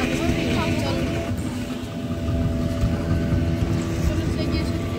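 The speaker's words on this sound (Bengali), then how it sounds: "বোট চলেছে প্রচণ্ড স্পিডে।" A speedboat runs at high speed off Udaipur sea beach, giving a loud steady engine roar with rushing water and wind, with people talking over it.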